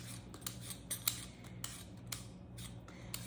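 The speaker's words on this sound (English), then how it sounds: "I'm using a potato peeler. I'm gonna peel my potatoes." Potatoes scraped with a potato peeler, quick short rasping strokes in an uneven rhythm, close and fairly quiet, with no voices.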